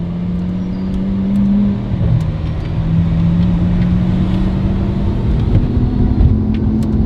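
A Lamborghini Aventador Ultimae V12 with Valvetronic exhaust rumbles loudly and steadily, its engine note shifting slightly in pitch as it idles and revs gently, heard up close without talk.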